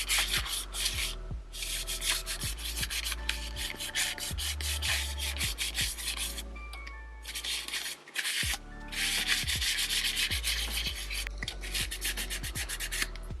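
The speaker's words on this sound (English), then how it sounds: "Now I'm going to just clean it up with some isopropyl alcohol." Cloth rubbing with isopropyl alcohol across the keys of a 1977 Commodore PET 2001 keyboard, a steady run of scrubbing strokes with short pauses, close and fairly loud, with no talk.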